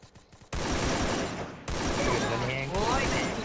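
Automatic gunfire in the Free Fire mobile shooter, bursting in after a brief quiet start and running as dense rapid fusillades, loud and close, with a short pause and then another sustained volley.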